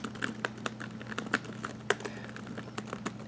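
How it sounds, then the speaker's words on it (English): Keys tapped on a notebook laptop keyboard, with scattered, irregular clicks at close range over a steady low hum and no talking. "I enjoy typing on this notebook, really."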